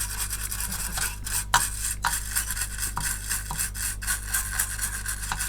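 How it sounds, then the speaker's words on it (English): A small brush scrubs the chip socket of a Commodore Plus/4 with contact cleaner, giving a steady close bristly rasp in quick repeated strokes over a constant low electrical hum. "Give the socket just a quick"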